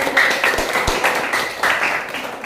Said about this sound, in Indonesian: Ya, beri tepuk tangan yang meriah